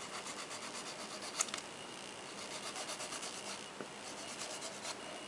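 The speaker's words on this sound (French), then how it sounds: "Ensuite moi je termine à la lime, hein, pour éviter de me blesser." A coarse-grit nail file rasps over gel nails during a gel refill with faint, quick, repeated scratchy strokes, close and quiet, with no talk.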